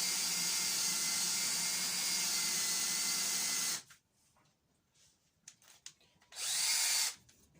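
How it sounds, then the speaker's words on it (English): A power tool polishes the head of a bolt to grind away its stamped numbers, a loud steady whine that runs for several seconds, stops, then returns in a second burst after a quieter pause with small clicks. "what you're basically doing now is polishing the head."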